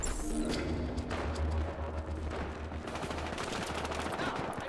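Gunfire in Battlefield Hardline multiplayer crackles in dense, rapid bursts at moderate distance over a constant low rumble, a steady chaotic fusillade from start to finish.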